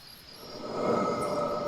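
Crickets chirr steadily in a forest at night, a thin continuous trill that grows louder partway through, alone with no talking.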